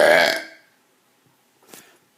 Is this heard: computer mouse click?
no